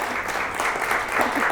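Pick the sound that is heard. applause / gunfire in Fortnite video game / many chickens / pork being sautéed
applause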